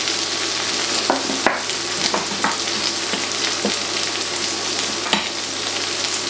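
Mutton pieces browning in a pan for a traditional Lancashire hotpot, a steady broadband sizzle with occasional sharper crackles and spatters, close and continuous with no talking.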